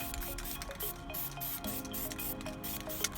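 Short hissing bursts of spray paint from an aerosol can, applied along the edges of a spray-paint art piece, soft and close with a quick rhythm of repeated sprays and no talk.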